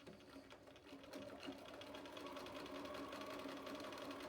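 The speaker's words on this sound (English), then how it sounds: "I'm going to start sewing" A sewing machine stitching fabric with elastic sewn into the seam gives a steady, fast mechanical whir and rapid needle rattle that builds slightly after the first second and runs continuously, fairly quiet and alone.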